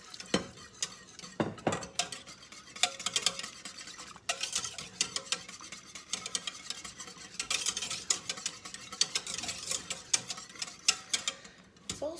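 A spoon stirs sauce in a pot on the stove for Danish tarteletter with chicken and asparagus, giving repeated soft scraping strokes with a faint sizzle beneath, close and fairly quiet.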